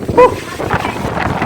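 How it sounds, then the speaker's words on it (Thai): Gusty wind buffets the microphone outdoors at a rural house construction site in Thailand, giving uneven, rumbling bursts with faint human sounds mixed in. "โอ้ลมเนาะ"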